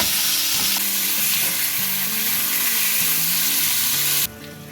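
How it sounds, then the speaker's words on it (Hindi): Small pieces of chicken fry with ginger and garlic in a hot pan, giving a loud, steady, close sizzle with stirring throughout, which drops away sharply just before the end. "अब चिकन को इसमें भून लें।"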